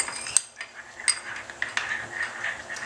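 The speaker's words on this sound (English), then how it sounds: "And a little stir." A spoon stirs kiwi jam mixed with grain alcohol, clinking lightly against the glass or pot in a few close, brief taps and scrapes, with no talking.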